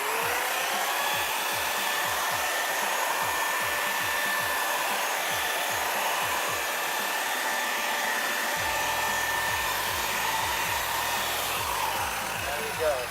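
A polishing wheel buffing car paint, giving off a steady, loud motor whine close up, with its pitch and load shifting slightly as the wheel moves over the panel.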